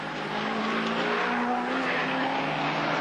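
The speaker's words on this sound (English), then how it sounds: "There's Brocky passing now" A race car roars past at the 1980 Bathurst race, a loud continuous engine howl with a falling pitch as it sweeps by, sustained and dense throughout.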